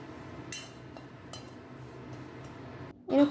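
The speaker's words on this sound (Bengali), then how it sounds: "শুকনো কড়াইতে ডালিয়া নেড়েচেড়ে লাল করে নেব" Dalia (broken wheat) is stirred with a spatula in a dry pan without oil, giving a few light scrapes and clinks over a quiet background, followed by a louder burst at the end.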